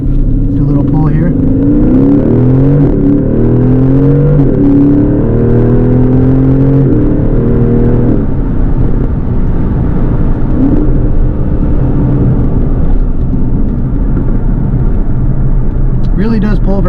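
Aston Martin DB11 Volante convertible with a twin-turbo V8 pulling hard, a loud close engine note rising through the gears with a shift, then settling into a steady cabin rumble as someone talks over it.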